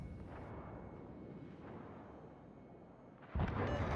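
Naval gunfire in the World of Warships video game: a steady rumbling battle din, then a sudden loud boom near the end of the clip.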